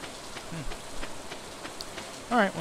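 Rain falling in the farming video game Stardew Valley, a soft steady patter under a man's brief murmured remarks, with a short bright chime-like game sound near the end.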